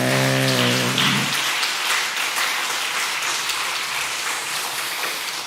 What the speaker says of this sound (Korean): 우리 청년의 격려 축복의 박수 한번 주시기 바랍니다